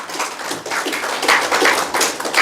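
Church congregation clapping loudly in a fast, even rhythm, many hands striking together close by with no talk over it.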